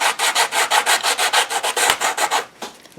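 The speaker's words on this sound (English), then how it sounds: "And I'm going to grunge up all the edges with my sandpaper" Sandpaper scraping along the edges of an old altered book, a quick run of about a dozen rhythmic rasping strokes, close and loud, tapering off near the end.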